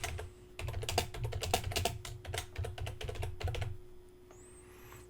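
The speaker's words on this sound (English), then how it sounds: "Now what I want to do is I'm going to type" Fast typing on a computer keyboard, with close, crisp key clicks in quick bursts for about four seconds before it stops, under a faint steady electrical hum.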